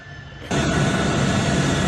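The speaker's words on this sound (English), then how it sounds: "There's a Globe Master heading to Colombia." A Boeing C-17 Globemaster military transport plane roars overhead, a loud, dense broadband rumble and whine that jumps abruptly in level and holds steady, with no voices over it.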